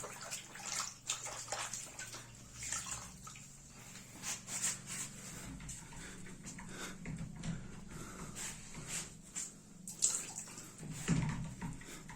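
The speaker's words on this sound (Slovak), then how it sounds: "Umývanie čistou vodou." Clean water is splashed and poured over a shower enclosure during cleaning, giving soft uneven sloshing and pattering at close range, quiet and irregular throughout, with no voices.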